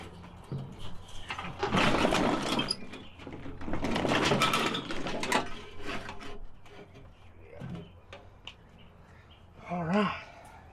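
Bolts are tightened down while assembling a grill attachment for a Weber kettle, giving two longer bursts of close ratcheting and rubbing metal, then a few softer scrapes and a short final creak.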